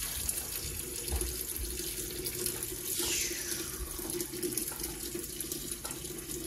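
A tap runs steadily with water streaming into a sink, a constant close hiss with faint clinks near the middle.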